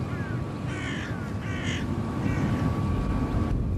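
Crows caw in the fields around a Russian airfield, a few harsh calls standing out over a steady, loud outdoor rumble.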